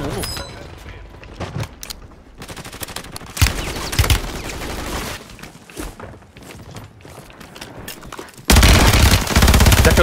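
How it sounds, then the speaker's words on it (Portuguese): Gunfire in Call of Duty: Warzone in scattered bursts and rapid automatic volleys, with footsteps and mechanical clicks between, ending in a loud continuous barrage. "Tô tomando tiro pra caralho de todo mundo."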